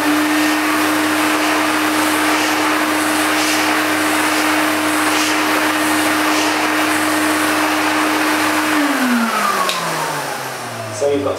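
A Hoover Aquamaster S4470 carpet washer vacuum runs loudly and steadily close by with a constant whine, then its motor pitch drops as it spins down near the end.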